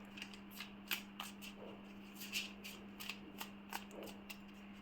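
Tarot cards being shuffled by hand close up, a quiet series of crisp riffling flicks and snaps, irregular and repeated over a faint steady hum.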